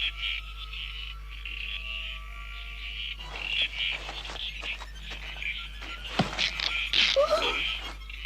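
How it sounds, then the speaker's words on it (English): Cartoon frogs croak in a foggy outdoor scene, faint at first and then louder, with a busier burst of croaking and chirping toward the end and no speech. "It's the bleeding froggies!"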